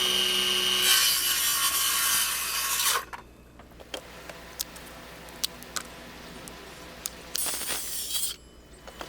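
A handsaw cuts through wood during chicken coop maintenance, with close, loud rasping strokes in two bursts separated by quieter clicks and taps, and no talking.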